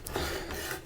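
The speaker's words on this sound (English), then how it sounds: "Maybe I shouldn't be using a metal scraper." A metal scraper rasps old finish off a wooden table in a brief, close, gritty scrape under a second long, with no voices over it.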